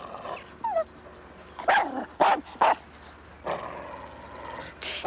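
A dog gives several short, sharp barks mixed with high whimpers and yips, moderately close, over a quiet background hum and with no talking.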